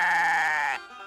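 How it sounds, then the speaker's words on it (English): A goat's bleat, one long wavering call held for most of a second and then cut off, loud and close with no talk over it. "What does a goat say?"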